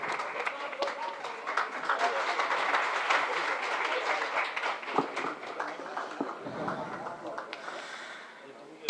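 Audience applause at a Hindi kavi sammelan poetry recital, a sustained crowd of clapping that stays fairly steady for several seconds before fading out, heard at moderate distance without talk over it.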